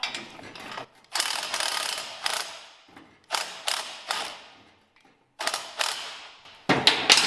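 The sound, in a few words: tightening a lock nut on a weed burner wheel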